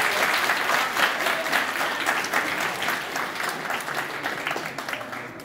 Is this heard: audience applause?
yes